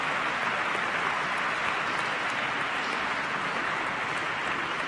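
A chamber crowd applauds the Governor of Minnesota before his State of the State address in the legislative chamber, sustained and even from start to finish with no pause or break.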